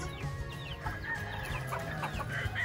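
Chickens on a chicken farm clucking and calling continuously, several birds at moderate distance, fairly quiet overall.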